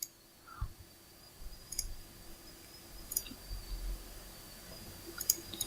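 A computer mouse clicks while a colour is being picked in Photoshop: a few soft, sparse clicks spread over several seconds against quiet room noise.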